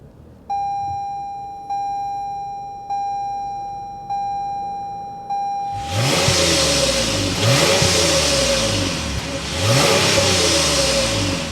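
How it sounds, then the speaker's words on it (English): Five evenly spaced chimes ring, then a 2024 Toyota Camry XLE V6 engine starts and idles with a deep, throaty exhaust rumble, revving a few times. "start it up, so you can hear that exhaust note"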